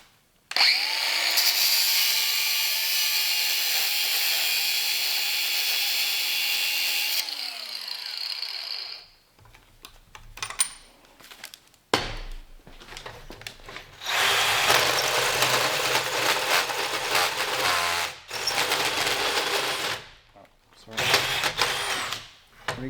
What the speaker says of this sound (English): A little bit torturous from a little hole saw.